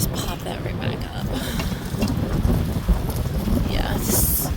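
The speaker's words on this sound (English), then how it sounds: "it's a super windy day today" Strong wind gusts roar steadily through a garden as broadband rushing noise buffeting the microphone, with faint rustling throughout.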